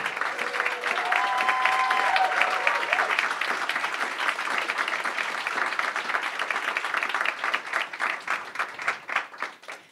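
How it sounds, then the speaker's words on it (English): An audience at an evening art and activism event applauds to welcome a speaker, dense sustained clapping for most of the time that thins into scattered claps and fades at the end. "So please give a warm welcome, a warm round of applause"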